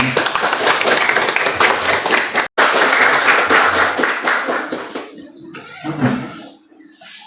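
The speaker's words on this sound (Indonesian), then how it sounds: "Kita kasih tepuk tangan untuk kelompok 4." Classroom of students clapping for a group at a school lesson, a loud, dense patter of hands that runs steadily for several seconds, breaks off briefly, then thins out into scattered claps and near silence.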